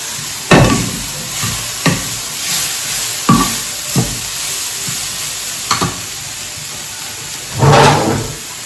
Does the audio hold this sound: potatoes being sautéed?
yes